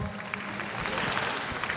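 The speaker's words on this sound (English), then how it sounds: "Let's give them a round of applause, you all, for taking care of their business" Audience applause at a workplace safety meeting, a brief, dense patter of many hands clapping together, steady and moderately loud for the whole moment.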